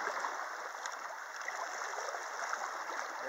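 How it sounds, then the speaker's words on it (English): Steady rushing water where the Roach and Lynch rivers join near Dyke, Virginia, a broad continuous flow heard close and even, with no voices over it. "There's the Roach River and the Lynch River."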